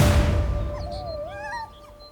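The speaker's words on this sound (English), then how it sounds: "African wild dogs are now endangered" African wild dogs whimper and yip in high, wavering whines, a few close cries rising and falling over a low rumble of background noise.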